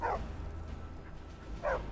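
Dog in the video game Skyrim barking twice, a short yip-like bark at the start and another near the end, over a low rumbling game ambience.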